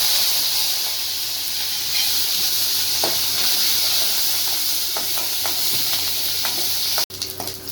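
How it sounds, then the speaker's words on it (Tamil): Mustard seeds, two dried red chillies and curry leaves sizzle in hot ghee for a tomato dal rasam, a loud steady hiss with occasional pops, ending in an abrupt cut and clatter. "கடுகு போட்டுக்கலாம். காஞ்ச மிளகா 2, கருவேப்பிலை."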